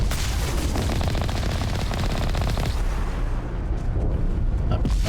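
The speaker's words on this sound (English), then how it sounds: "Rockets. Rocket launcher." Rocket launcher fire in the Mass Effect Legendary Edition video game blasts alongside dense, continuous, loud combat noise, rumbling and crackling throughout with no break.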